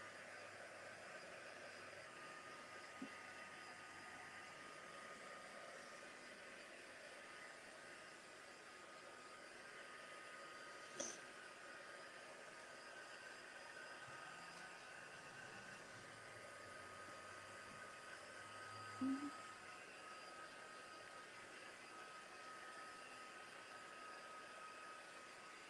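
A heat tool blows steadily across primed art journal paper, giving a faint continuous airy whir with a couple of small knocks and no talking.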